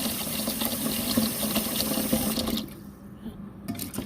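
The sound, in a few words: water poured into a pan for sausages and rice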